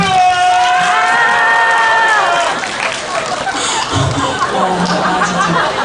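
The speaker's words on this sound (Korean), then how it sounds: "박수." An audience at a movie theater talk event cheers and shouts loudly, with a high excited voice rising above the crowd, then continuing as a noisy crowd roar mixed with laughter.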